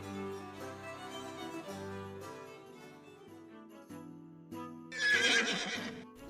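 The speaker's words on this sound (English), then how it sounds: "as they ride horses around Heidelberg." Horses neighing and whinnying during a ride around Heidelberg, with a drawn-out call and a louder, sharper whinny near the end, moderately close and without talk.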